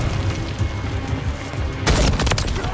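Gunfire and explosive booms fill a Call of Duty Modern Warfare 3 multiplayer match, with continuous dense combat noise and a sudden louder burst of shots near the end.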